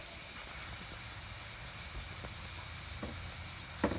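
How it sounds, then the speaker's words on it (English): Air hisses steadily from a small leaking boost hose on a car engine during a boost leak test, a constant close hiss with a few faint ticks and a brief knock near the end. "Believe it or not, this little hose has a real bad leak."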